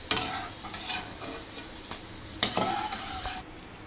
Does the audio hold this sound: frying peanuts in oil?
yes